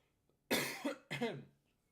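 A single close, sharp cough in two harsh bursts, alone with no talking.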